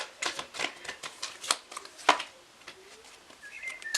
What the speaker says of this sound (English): you guys can hear me shuffling